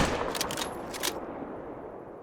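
A bow shot at a lion while hunting in Call of the Wild, heard as a single sharp release with a brief whooshing burst that quickly fades into quiet ambience.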